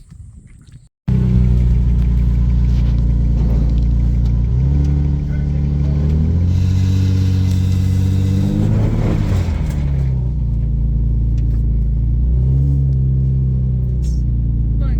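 A free drift car's engine runs rough on old gasoline, bursting into a loud, close, continuous drone right after starting, with the revs swelling and easing in waves and no talk over it.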